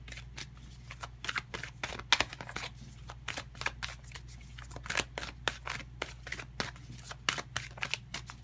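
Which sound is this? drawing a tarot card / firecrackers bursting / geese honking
drawing a tarot card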